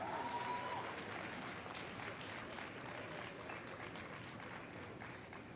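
An audience at a Karachi medical and dental college convocation ceremony applauds their teachers with a dense, steady patter of clapping from a large crowd that holds throughout and fades slightly toward the end.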